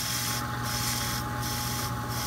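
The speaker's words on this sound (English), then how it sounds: "I'm going to scuff it, the surface of the ferrule, with some 120 grit sandpaper, and I'm going to turn the machine on" A pool cue ferrule spins on a lathe while 120 grit sandpaper is held against it, making a loud, steady rubbing hiss over the machine's constant hum, with three short pauses in the scraping.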